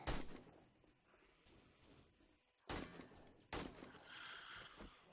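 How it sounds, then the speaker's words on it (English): Gunfire in the survival video game 7 Days to Die, sharp broadband bursts at moderate level over a busy game soundscape, with a few distinct shots spaced a second or so apart. "Why is my gun not hitting you?"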